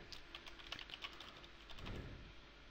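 Keys clack on an Imperator Pro gaming keyboard in a quick irregular run of light, close taps, faint and steady with no voice over them.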